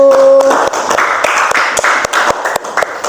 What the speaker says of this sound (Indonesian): Tepuk tangan buat kelompok 1